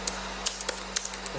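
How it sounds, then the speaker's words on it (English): Quick keystrokes on a computer keyboard, a string of sharp clicks in an uneven rapid rhythm, fairly faint and close, with no voices. "I'm going to type fast."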